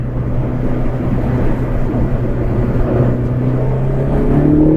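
Mitsubishi Lancer Evo 4 engine droning steadily from inside the car while driving, a low continuous hum with turbo whine rising slightly toward the end, no talking.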